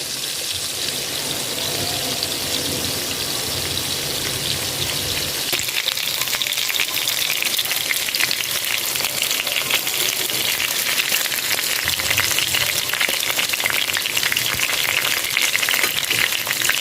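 Masala-coated fish frying on a flat iron tawa, a steady close hiss of oil sizzling that holds at an even level throughout, with no talk over it.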